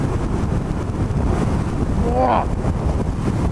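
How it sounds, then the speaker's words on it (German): Strong wind buffets the helmet microphone while riding a BMW R1100RS motorcycle on a country road, a loud continuous roar with engine rumble beneath and a brief exclaimed voice. "Ist das hier windig"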